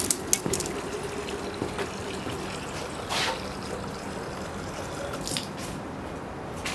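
Water poured on carrots in an urban terrace garden, a steady trickling and splashing stream with scattered drips and small knocks, fairly close.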